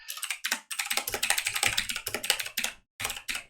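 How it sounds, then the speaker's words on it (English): Someone types rapidly on a computer keyboard at close range, producing dense bursts of clicking keystrokes with a short pause near the end before the typing resumes. "I'll just type it in here."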